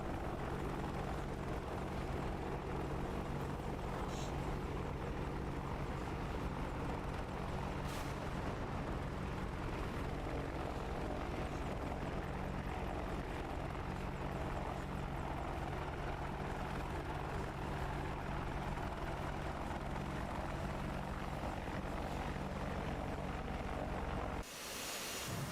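A jet aircraft taxis in the DCS World flight simulator, a continuous loud engine roar and rumble holding steady throughout before cutting off abruptly near the end.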